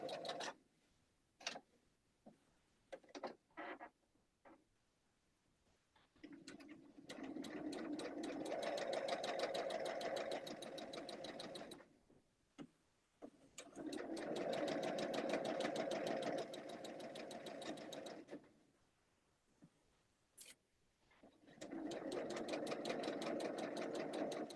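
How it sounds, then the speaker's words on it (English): A sewing machine stitches fabric in three long bursts of rapid, steady mechanical whirring, separated by pauses filled with small clicks and handling noises, heard fairly quietly. "I'll kind of intentionally sew too far away from the line so you can see what that looks like."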